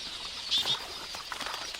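A brief flurry of quelea wings flapping, a couple of quick fluttering bursts over a soft, hissy background.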